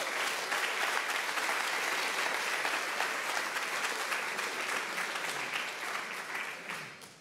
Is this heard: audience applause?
yes